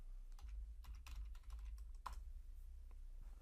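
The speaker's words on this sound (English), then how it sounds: "I'll type Python and then hit enter." Typing on a computer keyboard while entering a Python command in a shell, with scattered, uneven clicks of keys and a heavier keystroke near the middle, close and fairly quiet over a steady low hum.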